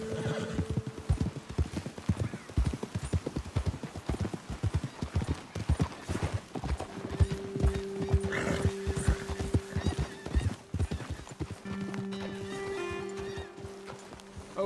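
Horses' hooves clip-clop steadily and close in the video game Red Dead Redemption 2, with a neigh rising midway and soft tonal game sounds and faint voices underneath.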